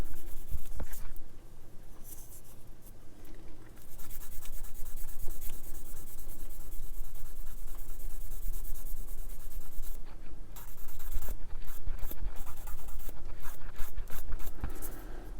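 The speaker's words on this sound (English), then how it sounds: "So with the seam lines, you can either sand them off, like I'm doing" Sanding seam lines off a plastic part from a Tamiya 1/24 Ferrari LaFerrari model kit makes close, steady scratchy rubbing strokes that keep going almost without pause, with brief breaks between runs.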